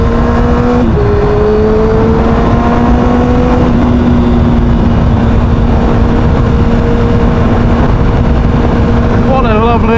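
A Honda CBR motorcycle engine drones loud and close while riding on a sunny evening, a steady rumble whose pitch slides slightly as the revs change, with wind roar on top.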